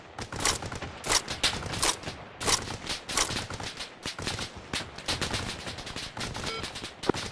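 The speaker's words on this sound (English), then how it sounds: "You open up your GPMG" GPMG machine gun in Arma: Reforger during a mountain assault, firing repeated bursts of rapid shots in an irregular rhythm, close and loud, with other gunfire mixed in.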